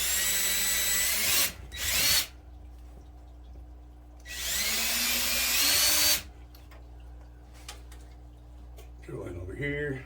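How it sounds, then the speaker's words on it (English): Power drill boring holes to tap air fittings into a 55-gallon shrimp aquarium, two loud, close whirring bursts of a few seconds each separated by quiet, with a shorter tool noise near the end. "So basically you just drill in."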